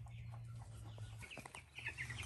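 Farmyard chickens cluck in a short, close burst of a few clucks, with soft chirps and faint rustling around them and no voices.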